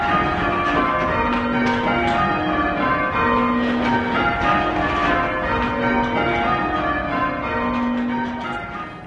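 Church bells at the Whitechapel Bell Foundry ring loud and near, overlapping peals sustaining and blending into a dense continuous wash of tones that fades slightly at the end.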